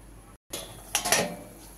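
A metal lid set onto a cooking pot of fish curry broth, one sharp clanking contact followed by a brief ringing rattle as it settles, close and alone after a short gap of silence.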